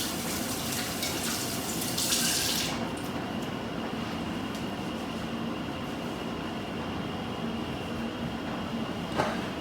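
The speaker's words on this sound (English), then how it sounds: "Let me rinse my hands." Hands rinsed under a running kitchen tap while preparing a Crock-Pot beef stew: a steady, fairly loud rush of flowing water continues throughout, with a brighter splashing burst near the start.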